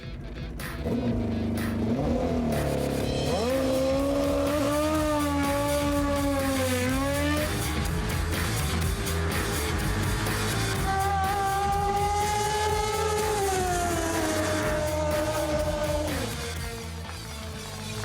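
A drag bike, ridden by Guy Martin on his first run, screams down the drag strip, its engine note rising and falling through rapid gear changes, loud and sustained with no talk.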